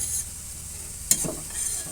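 Cauliflower mash is stirred in a pan, a soft low sizzle with one sharp scrape of the spatula near the middle, quiet and close with no voices.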